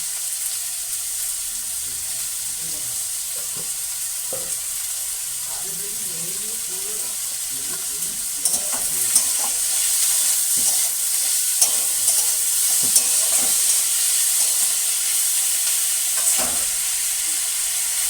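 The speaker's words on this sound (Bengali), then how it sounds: "গ্যাসটা একটু কমিয়ে দেবো, পেঁয়াজটা আস্তে আস্তে সেদ্ধ হোক।" Onions fry and sizzle in a pan for Kolkata-style chicken curry, a steady hiss throughout with scraping stirring strokes, louder and busier in the second half, with no talk.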